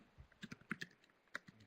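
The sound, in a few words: typing an answer on a computer keyboard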